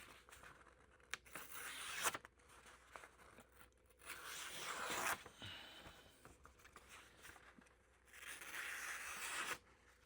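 A sharpened budget Dollar Tree knife slices through paper in a cut test, giving several crisp tearing, rustling strokes in close succession, each a short burst of papery hiss, with no talking.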